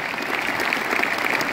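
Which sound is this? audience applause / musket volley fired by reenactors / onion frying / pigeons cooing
audience applause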